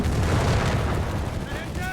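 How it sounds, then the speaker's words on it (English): Panzerfaust anti-tank shot in the strategy game Company of Heroes 3, a loud heavy blast with a rumbling tail that fades over about a second, with a voice speaking faintly toward the end. "Got the Scot with the Pantherfaust."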